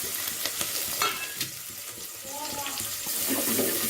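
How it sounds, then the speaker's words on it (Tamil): Shallots dropped into hot oil with fennel seeds for a kuravai fish gravy, giving a close, crackling sizzle with stirring scrapes and clinks over a short stretch. "சின்ன வெங்காயம் அரிஞ்சு வச்சுருக்கோம் சின்ன வெங்காயம் போடுறாங்க"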